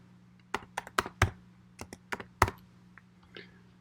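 Computer keyboard typing while entering database connection parameters: a dozen or so crisp, separate key clicks in an irregular rhythm, close and fairly quiet over a low steady hum, with no talking.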